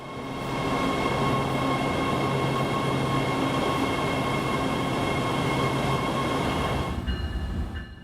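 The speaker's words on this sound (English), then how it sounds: "Deep down underground below Union Station, we find even more trains. The Red Line subway to Hollywood." A Los Angeles Red Line subway train roars steadily underground below Union Station with a dense rumbling hiss and faint high whine, fading off near the end.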